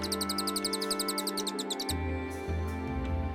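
Song of a cililin bird from the forest, a rapid run of sharp repeated high chirps in quick pulses for about two seconds, then quieter scattered notes over a low steady hum.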